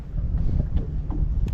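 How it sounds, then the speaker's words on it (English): Wind gusts across the mic on Table Rock Lake during a winter bass fishing outing, a loud, close low rumble and buffeting roar filling the whole clip without pause. "Wind's blowing."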